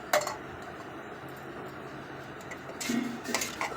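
Clinking metal knocks as a lid is set on a cooking pot of jaggery pongal, one sharp clank at the start and a couple of softer rattles near the end over quiet kitchen background.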